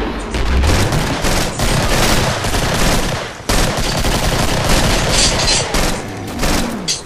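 Rapid automatic gunfire from the MP7 medic gun in the Killing Floor video game, a loud, dense, continuous stream of shots with a brief break midway, no voices over it.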